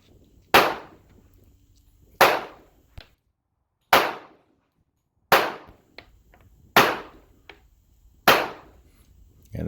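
Rock Island Armory M1911 A1 pistol firing .45 ACP rounds, six sharp loud shots spaced about one and a half seconds apart, each with a brief echoing tail and faint clinks between.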